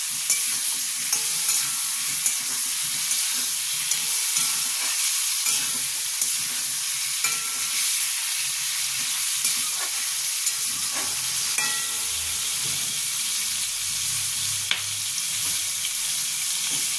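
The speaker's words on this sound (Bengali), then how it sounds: "এগুলো একটু ভেজে নিই।" Two green chillies fry in hot oil in a pan for a Bengali palang shaak dish, a continuous steady sizzle with occasional soft stirring scrapes and small pops, close and even.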